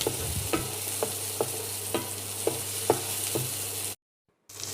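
Sliced green chillies frying in an oiled pan, a loud steady sizzle broken by regular scraping stirs of a spatula, then a brief cut to silence before the sizzle resumes.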